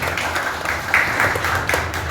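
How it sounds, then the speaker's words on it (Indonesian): Applause from the audience at a junior high school's 73rd anniversary celebration, a steady, moderately loud wash of clapping from many hands that continues throughout. "Boleh tepuk tangan untuk SMP Negeri 1."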